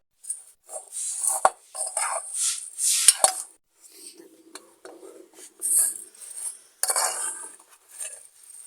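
Utensil scraping and clinking in a nonstick pan as vermicelli is stirred and roasted in ghee, with uneven bursts of stirring, short clanks and pauses, close and fairly quiet.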